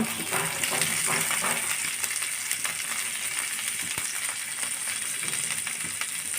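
Green chili, ginger and garlic paste fry in a pan with a dense, continuous loud sizzle, crackling close up, with a few faint ticks of stirring and no speech.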